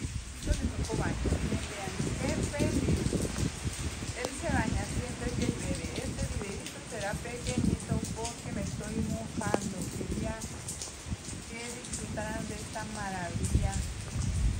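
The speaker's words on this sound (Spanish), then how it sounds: "En un día lluvioso, y al parecer todo el día estará lloviendo, así que Chiquito le tocó baño." Steady rain falls all day on leaves and garden surfaces outdoors, a dense continuous hiss with scattered drip pattering, close and fairly loud throughout.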